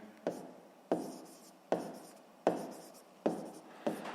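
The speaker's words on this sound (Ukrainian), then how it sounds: "Ну що ж, записуємо відповідь, пишемо відповідь." A pen writes down a math answer on paper in six quick, evenly spaced scratching strokes, close and fairly quiet, with no talk.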